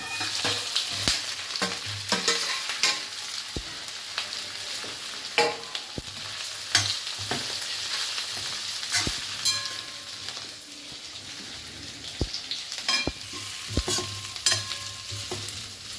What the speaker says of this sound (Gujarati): હવે આપણે તેલ મૂકશું વઘાર માટે. હવે આમાં આપણે 1 ચમચી રાઈ મૂકશું.